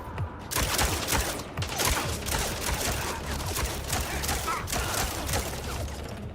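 Rapid bursts of gunfire from the video game MindsEye, a dense, continuous fusillade of sharp repeated shots filling the scene at close range with no pause.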